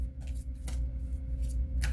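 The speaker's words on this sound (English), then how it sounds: "before I started shuffling these cards" A deck of cards is shuffled, with several brief riffling bursts over a steady low hum, close and fairly quiet.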